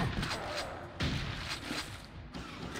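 Gunfire in the video game Quake II: loud, close bursts of shots, with two sharp blasts about a second apart over a dense, rumbling battle din.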